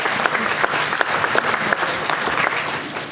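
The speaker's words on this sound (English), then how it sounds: "Give them a round of applause." An audience at a school referendum information session applauds for PTO presidents, loud and close, with dense clapping from a roomful of people and distinct individual claps popping through for about three seconds.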